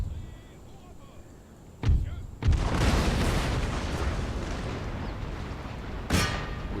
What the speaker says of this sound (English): We're shooting at cavalry.